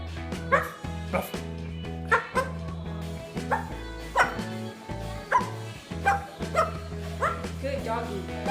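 Repeated bark-like yips from an umbrella cockatoo imitating a dog come in an uneven rhythm, close and fairly loud, with a person's voice mixed in among the calls.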